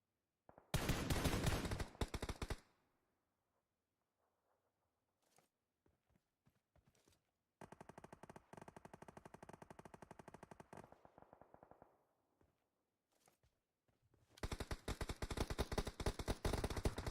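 Bursts of rapid automatic gunfire during a competitive video game match, three loud sustained volleys separated by quieter stretches with a few isolated shots and footsteps.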